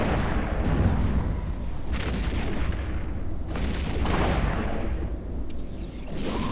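Continuous heavy weapon fire from a Machariel battleship in the space game EVE Echoes, dense rumbling volleys with sharper bursts recurring every couple of seconds, loud and unbroken, with no talking.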